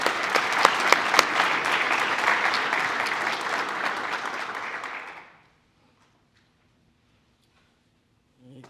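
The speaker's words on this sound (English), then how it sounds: "Let's hear it for Booch and BK." Dense audience applause fills a commencement celebration for Western Michigan University football players, holding steady for about five seconds before cutting off into near silence.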